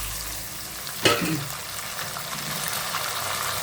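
Tomato drops into a pan of frying onions and field beans for a pulao, making one sharp splat-like burst over a continuous close sizzle.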